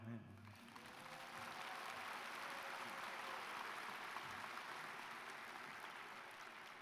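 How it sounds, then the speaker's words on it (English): An audience at a college commencement ceremony applauds in a large hall, a broad and steady wash of clapping that holds for several seconds and sounds distant and fairly soft. "You can applaud now."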